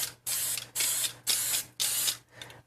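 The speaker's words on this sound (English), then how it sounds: "we're going to spray with non-stick spray" Non-stick cooking spray is sprayed into muffin cups in four even, hissing bursts of about half a second each, separated by short pauses, close and fairly loud.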